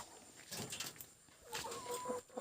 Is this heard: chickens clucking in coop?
yes